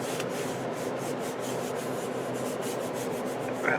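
Hands rub firmly over a scrapbook page in a memory album, a close, continuous dry scuffing with quick regular back-and-forth strokes, alone with no voices.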